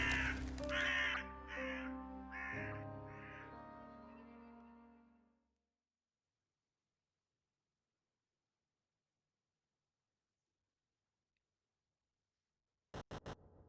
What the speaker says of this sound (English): he is interrupted by the visit of a majestic raven